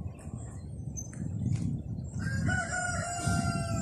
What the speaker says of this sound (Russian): Ох, петушки как поют.